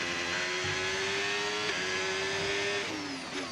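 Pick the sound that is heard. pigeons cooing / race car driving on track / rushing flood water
race car driving on track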